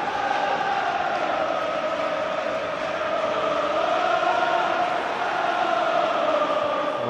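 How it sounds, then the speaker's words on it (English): Packed stadium of Hibs and Hearts football fans at a derby, a steady dense roar of crowd noise with sustained chanting tones carrying throughout, loud and continuous with no break. "it's lively today. Due to the fact that there's a great Hearts crowd inside the stadium as well"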